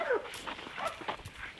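A pitbull in Greece barks and whimpers close by in short, excited yips and whines, with a voice talking briefly between them.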